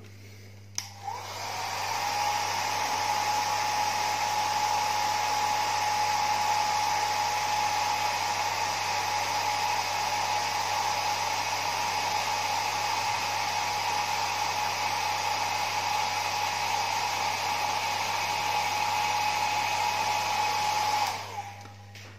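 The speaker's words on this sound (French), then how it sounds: "Coup de sèche-cheveux." A hair dryer switches on and blows with a steady, high whirring roar for about twenty seconds, then clicks off, used on decals on a Tamiya Supra GT Tom's model car body.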